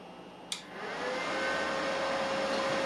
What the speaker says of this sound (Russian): Включаем аппарат для пробного пуска.